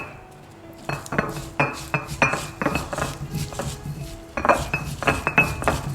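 Chili being ground on a traditional ammi grinding stone for fresh coconut sambol, heard as a steady series of close stone-on-stone scrapes and clacks in an even rhythm.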